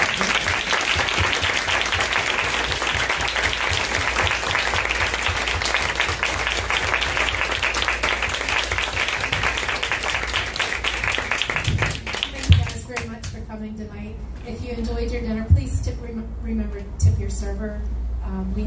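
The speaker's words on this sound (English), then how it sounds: "I want to ask for a round of applause." An audience applauds steadily and loudly for about twelve seconds in a restaurant setting, then the clapping fades out and a few voices talk over a low background hum.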